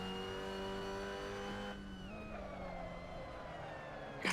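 A race car engine holds a steady high whine through a corner, then drops in pitch as the driver lifts and shifts, followed by a softer, rougher engine note and a brief sharp noise at the end.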